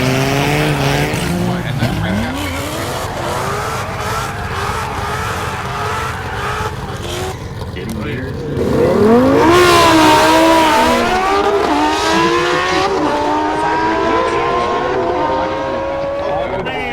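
A Dodge Redeye and a Shelby truck drag race in the FiveM video game, engines revving hard and climbing through gears with tire squeal, loud and continuous, while players talk excitedly over the roar.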